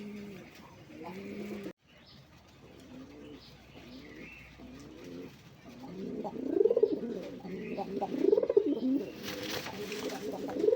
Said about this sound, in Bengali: দেখেন নরটা কিন্তু ডাক কিন্তু খুব মোটা ডাক, দেখছেন নরের ডাক কি